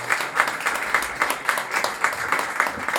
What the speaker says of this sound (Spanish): Le damos un aplauso al autor.